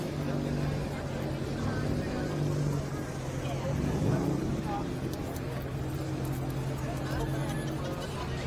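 Engines rumble steadily at a Cars and Coffee show held at Bethlehem Steel, with vehicles driving past amid crowd chatter and people talking nearby throughout.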